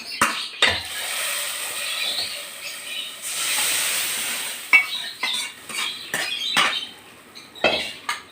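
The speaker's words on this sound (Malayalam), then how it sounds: "നമുക്ക് കറിക്കകത്ത് ഒഴിച്ചു കൊടുക്കാം" Liquid poured into a simmering tomato and egg curry in a pan, then stirred: soft hissing and sizzling with a run of scraping, clinking stirs of a spoon against the pan.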